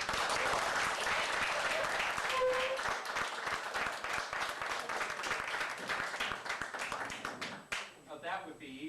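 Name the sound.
audience applause at company dinner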